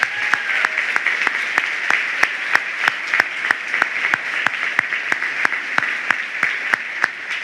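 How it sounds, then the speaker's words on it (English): Steady applause from a crowd, many hands clapping at an even pace with a few sharper individual claps standing out, continuous throughout. "Please join me in giving all of these folks a round of applause."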